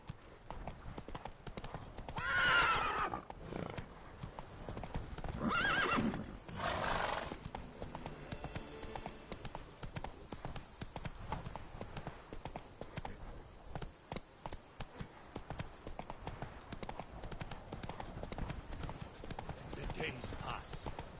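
A horse gallops in The Witcher 3, its hoofbeats drumming steadily under a voice and game sounds, with brief louder bursts near the start.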